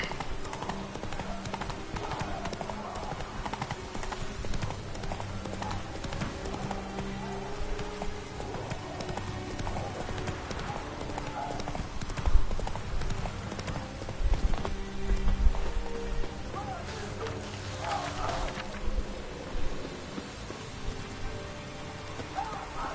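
Roach, a horse in The Witcher 3 video game, gallops steadily with rapid hoofbeats throughout, blended with rain falling on surfaces and a background game score, with a few louder thumps partway through.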